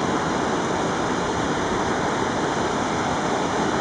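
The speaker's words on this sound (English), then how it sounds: "This is this pretty amazing waterfall." Ptarmigan Falls in Glacier National Park pours steadily in a loud, continuous roar of falling water, heard close and alone with no voices.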